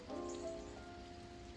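Rain falls steadily outdoors at a vending spot with a canopy, a faint, even patter with a few brief tonal tones mixed in.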